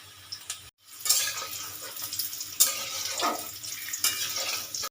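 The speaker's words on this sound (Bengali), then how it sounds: "এই যে দেখুন এখানে কিছু পরিমাণে সাদা তেল দিয়েছি আলুটা হালকাভাবে ভেজে নেব" Salted boiled potatoes frying lightly in white oil with a pinch of turmeric, a close steady sizzle with a brief dropout and some scraping stirring noises throughout.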